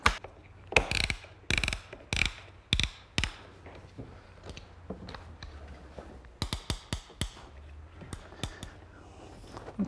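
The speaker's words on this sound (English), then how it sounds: "a device which allows me to tighten the whole band up" A band clamp ratcheted tight around the joints of an octagonal outdoor garden table: sharp ratcheting clicks come in short bursts, about ten strokes, then a pause and a second cluster, close and fairly crisp.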